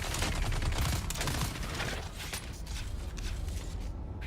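Dense, continuous gunfire from a weapon in the video game Dune: Awakening rattles on at steady loudness, with faint mechanical clicks mixed in and no talking.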